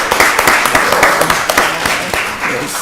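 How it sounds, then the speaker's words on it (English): Applause for a director at a county board of commissioners meeting: a room of people clapping loudly and steadily for a few seconds, with voices talking over it. "y'all give Director Peak a round of applause"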